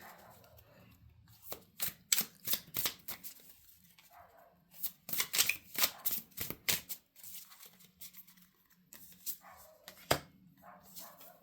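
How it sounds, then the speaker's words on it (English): Rider-Waite-Smith tarot cards are shuffled close by in several bursts of quick riffling snaps, with pauses between the rounds and a quiet room behind. "time to shuffle it up"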